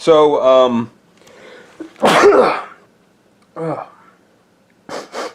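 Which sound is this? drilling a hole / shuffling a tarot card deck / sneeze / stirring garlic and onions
sneeze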